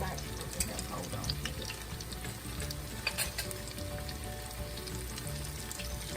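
Mashed potato patties fry in hot grease in an iron skillet, giving a steady, dense sizzle and crackle throughout, with occasional faint voice underneath.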